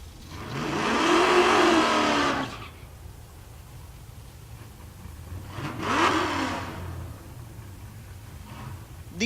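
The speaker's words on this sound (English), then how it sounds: "The S550 Mustang in the left lane." A Ford S550 Mustang, a naturally aspirated small-block drag racer, launches and screams away at Tulsa Raceway Park, with a loud rising engine roar that fades, then a second distant revving pass over steady crowd and track ambience.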